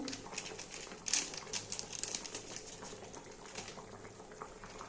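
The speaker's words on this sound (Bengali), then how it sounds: "দেখো ঝোলটা ফুটে গেছে" Egg omelette curry gravy bubbles and simmers in a pan, close soft popping and crackling bursts with a sharper spatter near the start, then settling into a quieter steady bubble.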